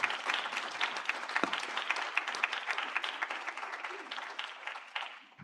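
Audience at a conference session breaks into a sustained round of applause, steady and moderately loud, with individual claps standing out and the sound thinning toward the end.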